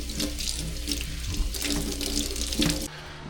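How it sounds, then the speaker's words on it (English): Running tap water splashes steadily over a CVT belt from a 2023 CFMoto Uforce 1000XL as it is washed with soap, a continuous close wash that cuts off abruptly near the end. "which is wash it with soap and water first, and then we'll put it on"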